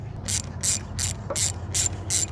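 A 10 mm ratchet tightens a bolt on a 1993 Honda Accord during a clutch install. Six evenly spaced bursts of rapid pawl clicking come up close and clear over a low steady background hum.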